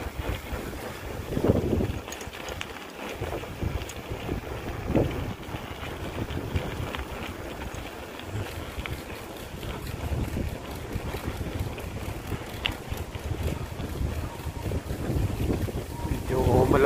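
Cool wind gusts outdoors beside a garden, buffeting the microphone with a continuous low rumble that swells and eases over about seventeen seconds.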